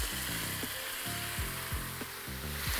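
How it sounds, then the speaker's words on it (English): Ground beef sizzles loudly in a hot wok, a steady hiss and crackle with intermittent scraping and stirring clunks. "that loud sizzle, that's exactly what you want to hear"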